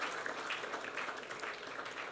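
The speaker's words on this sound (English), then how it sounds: "Another round of applause for her" An audience claps for a female panelist at an architecture exposition, a steady wash of many hands filling the room, fairly faint and continuous with no voices over it.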